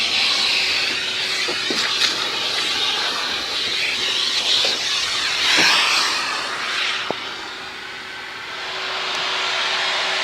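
A Metro Vac N Blow Pro 83BA vacuum runs continuously with a loud, steady rushing hiss and a faint constant whine, with a few brief knocks and shifts in pitch as it is moved. No voices are heard.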